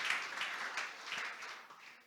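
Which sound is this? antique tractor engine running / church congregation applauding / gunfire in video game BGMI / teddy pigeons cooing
church congregation applauding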